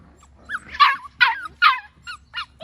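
A seven-week-old Schnoodle puppy gives about six high, sharp yips and barks in quick succession, close by, the last few softer.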